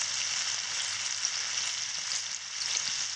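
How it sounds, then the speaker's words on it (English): Grouse breasts and saffron milk cap mushrooms sauté in a skillet with a constant close, bright sizzle and no pauses. "Sauteed grouse breasts and saffron milk caps"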